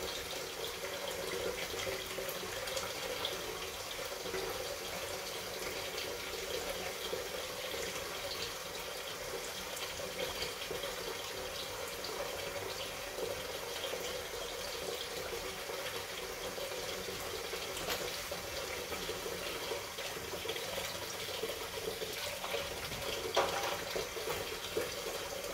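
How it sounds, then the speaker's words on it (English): Hot tap water runs steadily over jewelry being rinsed after cleaning, a constant close splashing stream with no talking. "Yeah, just keep on rinsing with hot water."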